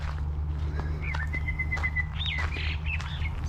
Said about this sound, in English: Birds are fluttering and calling out.